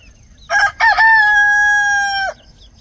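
Rooster crowing at a home flock of chickens beside a vegetable garden, one loud, close cock-a-doodle-doo with two short opening notes and a long sustained final note, otherwise quiet.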